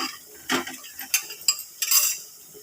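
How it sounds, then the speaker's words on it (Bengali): Fried pointed gourd (potol) tipped into hot spiced oil in a pan, bursts of clinking and scraping as the pieces land and are stirred, with a brief sizzle between the knocks. "এবার আমি ভেজে রাখা পটলগুলোকে দিয়ে দিচ্ছি"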